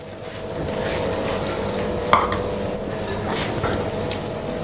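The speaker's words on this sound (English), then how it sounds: "Just take a little time and whisk it around." Waffle batter with milk is whisked in a bowl, giving a steady wet swishing and churning close by, with one brief knock of the whisk against the bowl rim, no talk.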